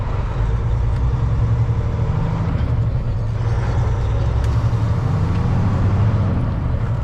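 A 2023 Kenworth W900L truck engine under light throttle, a steady low diesel rumble with road and cab noise, continuous and close without much change in pitch.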